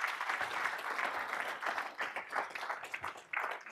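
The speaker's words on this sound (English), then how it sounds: "Let's give him a big old round of applause." An audience at a business conference applauds a speaker with a steady patter of many hands clapping, moderately quiet and slightly distant, lasting the whole stretch without any talk.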